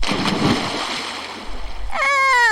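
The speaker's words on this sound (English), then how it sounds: "The wolf, being chased by the bees, jumped into a lake. Splash!" A wolf in a children's fairy tale jumping into a lake, a short watery splash and splatter near the start, then a rising cartoon-like tone near the end.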